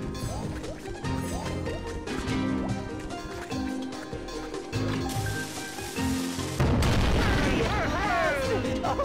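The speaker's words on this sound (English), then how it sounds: "Use the action button to fire the cannon." An old cannon fires in the Skylanders Spyro's Adventure video game, booming crashes and bursting impacts stacked over busy game music and effects, growing louder and denser toward the end.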